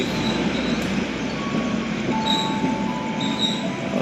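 Steady, loud rumble of the KA Sawunggalih, an Indonesian intercity passenger train running between Tegal and Kebumen, heard from inside a coach, with faint thin wheel squeals rising over the continuous roll.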